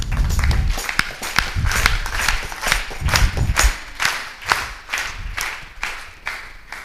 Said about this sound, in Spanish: ¿me ayudan con las palmas?